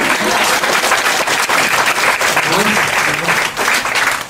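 An audience at a talk breaks into loud, sustained applause, dense and close, with a voice faintly audible through the clapping.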